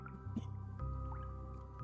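Water dripping in the video game Honkai Star Rail, a couple of small isolated drops falling over a low humming drone, faint and sparse.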